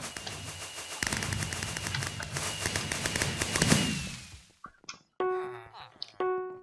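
Minecraft fireworks crackle in a rapid, gunfire-like burst that fades out, followed by a few short tonal game sounds.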